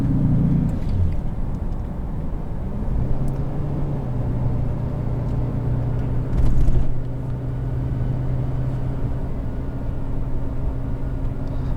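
Cab interior of a 2017 Ram 3500 Tradesman diesel pickup driving over bumps: a constant low engine and road drone with a brief thumping surge partway through, fairly loud and without talk.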